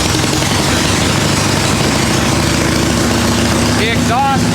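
Engine of a 1974 Harley-Davidson XLCH chopper motorcycle, exhaust not properly hooked up, running loud and continuous with a steady low rumble throughout, with a voice talking over it near the end.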